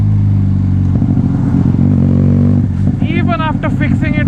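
A Benelli TNT 300 motorcycle with a loud aftermarket exhaust roars steadily and close during a night ride, its engine drone filling the clip, with a voice talking over it near the end.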